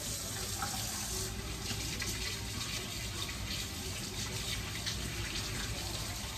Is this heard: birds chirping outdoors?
no